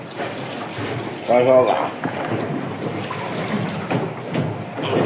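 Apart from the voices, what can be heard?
water filling a bucket on a boat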